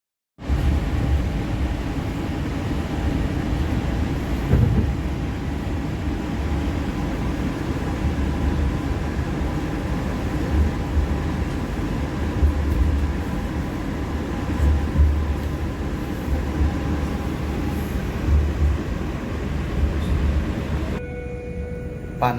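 The Argo Wilis passenger train on the Indonesian line toward Surabaya Gubeng, heard as a continuous loud rumble and hiss of rolling rail cars from on board, steady throughout with a brief shift near the end.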